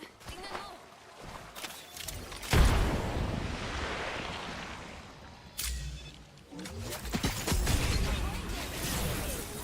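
A grenade goes off in a video game as a sudden, loud, booming blast that fades into a rumbling tail, followed by a second, lighter impact and continuing game noise. Someone speaks around the explosions.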